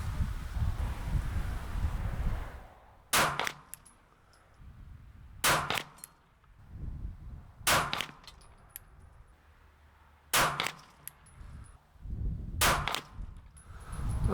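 A CZ P-10S pistol fires at a target 100 yards off in wind, five sharp single shots spaced a couple of seconds apart, loud and close, with gusty wind noise between them.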